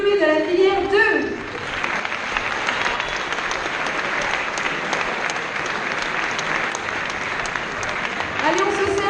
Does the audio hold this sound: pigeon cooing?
no